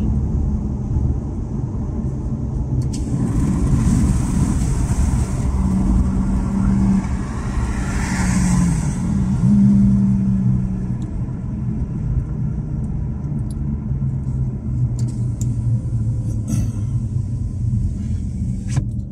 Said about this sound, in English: This is a G35 drift car,